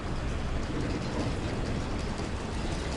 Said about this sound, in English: Here's a tourist train.